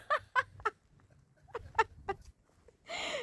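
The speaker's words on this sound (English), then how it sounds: "hello duck" A duck calls in several short, sharp bursts that come in two clusters, followed by a longer rasping call, close and clear against a quiet rainy-day background.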